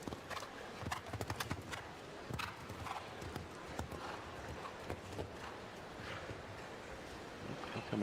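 Big show jumper's hoofbeats in an arena during a 1.50m World Cup class, quiet clip-clop strides coming in uneven bursts at moderate distance, with a faint whinny and no talk.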